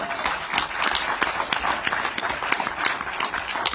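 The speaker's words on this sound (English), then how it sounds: "Give him a round of applause." Audience at a London film Q&A giving a round of applause, dense continuous clapping from a crowd, moderately loud and steady throughout with no talk over it.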